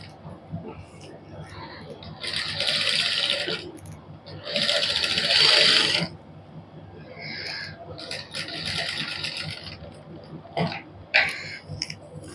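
A sewing machine stitches fine lace onto a suit neck design in several short whirring runs of a second or two, separated by quieter pauses with faint handling noise.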